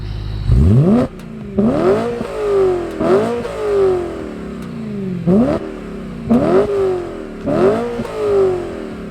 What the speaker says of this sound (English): you can just ring this thing out, rev it all the way, and have some fun